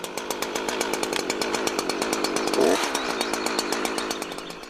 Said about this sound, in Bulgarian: След като трионът запали, не освобождавайте спирачката на веригата,